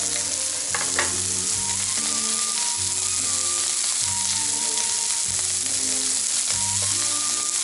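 A lamb chop sears in a hot pan with a loud, steady, close-up sizzle and crackle, with occasional faint clinks from turning the meat; no one speaks.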